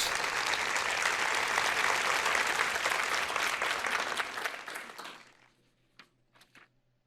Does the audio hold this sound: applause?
yes